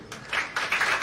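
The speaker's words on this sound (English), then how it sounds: "Clap hands for Jesus." A church congregation claps along in short bursts, fairly close and moderately loud, with a brief pause before the clapping swells again.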